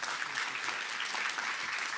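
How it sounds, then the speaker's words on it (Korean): Seminar audience on M&A market outlook giving dense, energetic applause, a continuous bright wash of many hands clapping at once, close and fairly loud throughout. "힘찬 박수 부탁드리겠습니다"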